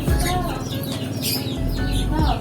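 Gamefowl hens and cocks kept in separate pens cluck and crow steadily at close range, several birds overlapping in a busy, continuous farmyard chorus.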